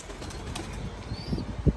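Pigeons flap their wings in quick bursts in an outdoor street, with soft fluttering over low background noise and a single sharper wingbeat near the end.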